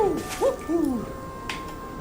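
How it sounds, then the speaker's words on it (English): An owl hooting in the video game Tales of Arise, a few distinct hoots close together, clear and fairly close over a quiet ambient background. "I can hear it, but I don't see the owl."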